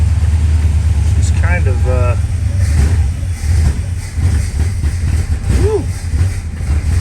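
A 1935 Plymouth engine with a new carburetor runs loud and steady, rough and a little sluggish, with a brief throttle lift partway through, while someone talks close by.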